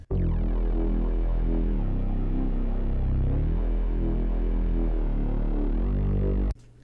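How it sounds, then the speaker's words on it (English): A bass synth plays a heavy, sustained low line with wobbling, shifting tones and a thick rumbling body, steady and loud for about six seconds before stopping abruptly. "which is all the way down here, this is the bass I'm using."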